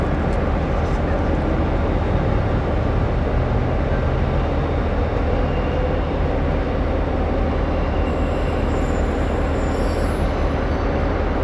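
A Tilt Train, the Brisbane–Rockhampton Tiltlander, rolls along the rails with a loud, steady rumble, and a thin high wheel squeal rises near the end.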